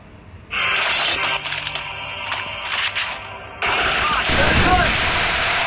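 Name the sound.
gunfire in a shooting video game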